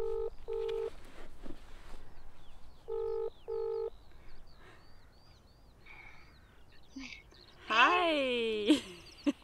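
Telephone dialing tones from a phone call at a wild camp by Angle Tarn in the Lake District: two short clusters of clear keypad beeps, then quiet outdoor air and a burst of high, warbling sound near the end.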